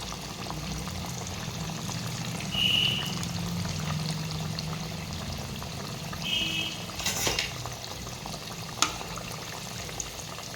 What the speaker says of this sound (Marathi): आता आपण यामध्ये एक एक करून वडे सोडून घेऊया